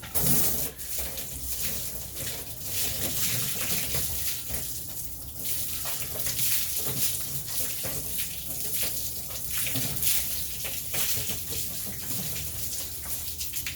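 Water runs steadily for about fourteen seconds, rinsing a cleaning product off a surface during a product test, a continuous close gushing spray with slight fluctuations and no voices.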